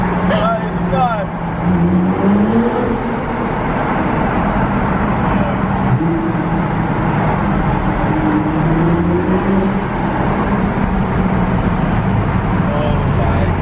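A Nissan GT-R R35 fitted with a custom exhaust drives through a tunnel, its loud engine drone and roar rising and falling steadily throughout, with people talking over it.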